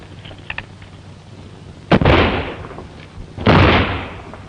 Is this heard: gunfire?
yes